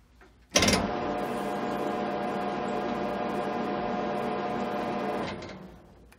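A machine chuck spins at 64 RPM, its motor giving a steady, even hum that starts abruptly, holds level for several seconds, then fades out near the end.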